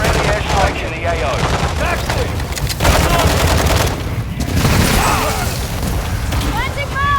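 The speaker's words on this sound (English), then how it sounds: "Friendly airstrikes in the AO." Airstrike explosions in the Call of Duty MWII DMZ video game, with heavy booms and rattling gunfire filling the mix under game radio voices and chatter.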